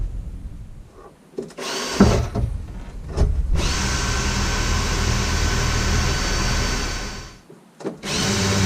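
A power drill bites into the roof of a 1998 Land Rover Discovery during a roof chop in a garage. There are short starts, then one long, loud, steady run of drilling that stops and starts again near the end, close up with no talk.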